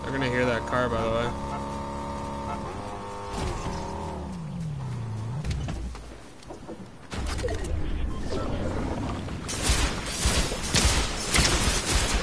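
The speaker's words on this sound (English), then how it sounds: "They're gonna hear that car, by the way." Car engine from the video game Fortnite, a steady droning motor rising and shifting in pitch as the vehicle drives, mixed with game effects and players talking over it throughout.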